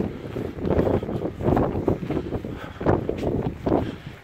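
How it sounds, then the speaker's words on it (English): Strong gusty wind buffets the microphone on a crag summit, loud rumbling roars rising and falling in surges with no voices. "It's been a very, very windy one, hasn't it? Just won't give in."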